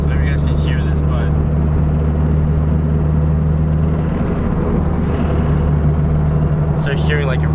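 Toyota MR2 Spyder engine around 2,500 RPM with a bad noise, a loud steady engine drone heard from inside the moving car with continuous road rumble and brief talk over it.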